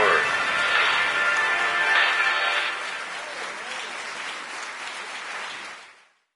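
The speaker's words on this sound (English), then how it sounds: "Come on, let's applaud him once more" Crowd applause from the video game Tour de France 2020 on PS4, steady clapping that is louder for the first few seconds, then settles a bit lower and cuts off abruptly at the end.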